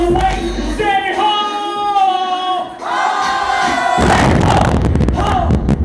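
A concert crowd at a Long Beach club gig shouts back in unison at a sung call, loud and close, with the performer's voice leading and the mass of voices erupting together near the end.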